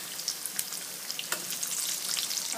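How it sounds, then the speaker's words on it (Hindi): Moong dal veg kebabs fry in a pan over a medium flame, giving a steady close crackling sizzle with scattered sharper pops and no voices. "हमें कबाबों को मीडियम फ्लेम पे ही फ्राई करना है।"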